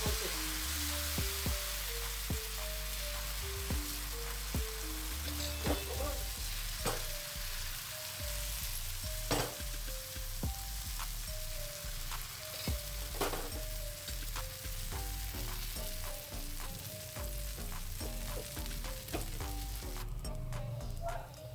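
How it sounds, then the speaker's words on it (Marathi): Dosa batter sizzles steadily in an oiled pan, a continuous crackling fry heard alone with faint background music. "ढोसा करणार आहे त्यासाठी मी ह्या पॅनमध्ये थोडं तेल घेतलेलं आहे"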